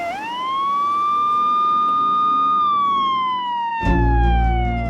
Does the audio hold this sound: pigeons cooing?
no